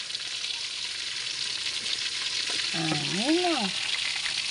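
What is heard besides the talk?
frying food over a wood fire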